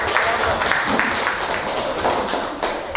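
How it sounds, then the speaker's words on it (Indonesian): A classroom group claps together in a dense, sustained round of applause that stays loud and even throughout. "Tepuk tangan dulu."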